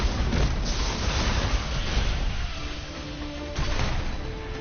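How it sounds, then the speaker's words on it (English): Heavy, booming blasts from a mech's twin cannons fired together in the fighting game Override Mech City Brawl, a dense, continuous loud rumble with a few stronger thumps rising out of it. "you can use both cannons at once"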